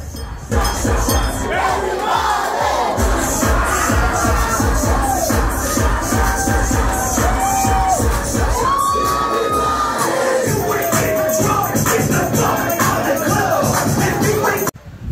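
A wild crowd of mostly Gen Z young people cheers, whoops and shouts in a packed bar, a loud continuous roar with scattered yells rising above it for the whole stretch.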